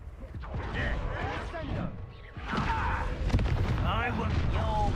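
Loud booming spell blasts from the Confringo fire curse in the Hogwarts Legacy video game, rumbling in bursts across the scene and mixed with in-game character voices.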